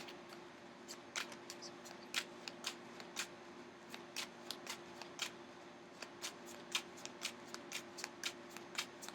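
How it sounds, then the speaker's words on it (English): Tarot cards being shuffled and flipped by hand, giving quiet, crisp, evenly spaced snaps and riffles that repeat steadily at close range, with no voices. "I keep flip-flopping the cards"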